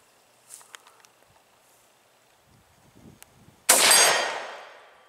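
A single loud gunshot fired at a target during outdoor target shooting cracks out sharply and decays over about a second and a half, preceded by faint handling noises and quiet shuffling.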